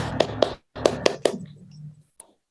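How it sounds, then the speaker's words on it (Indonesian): A classroom of pupils clapping hands in a short patterned rhythm, two quick claps then three more, close and sharp, ending with a brief faint tap. "tepuk tangan buat kita semua"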